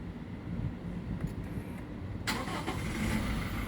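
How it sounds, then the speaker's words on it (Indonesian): A 2022 Venturer diesel car started with a start-stop button: a quiet interior hum, then the engine catches and settles into a steady faint diesel idle. "Sebelumnya saya akan nyalakan dulu mesinnya."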